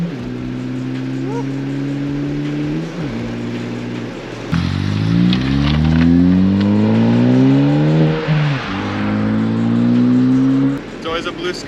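A car engine revs up and down while driving, loud and near, its pitch rising and falling through gear changes and climbing steadily mid-way, with a voice talking over it.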